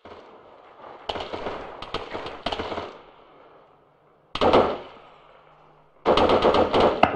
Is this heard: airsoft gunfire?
yes